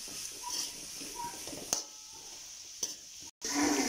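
Beef and curry leaves sautéing in a hot pan, a continuous close sizzle with a few sharp spoon knocks against the pan and a short gap before the frying resumes.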